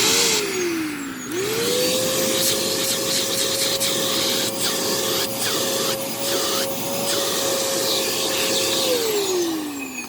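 A Moosoo U1400-A vacuum cleaner whines steadily, its motor pitch dipping as it starts and falling away at the end, with scraping and brushing sounds over living room carpet throughout.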